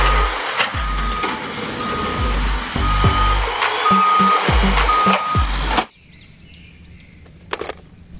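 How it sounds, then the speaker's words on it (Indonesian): A sand truck's engine rumbles up close while its reversing alarm sounds a steady run of repeated beeps, all stopping abruptly near six seconds, followed by quiet with a few small clicks. "Wow, kalau ini mobil truk pasir."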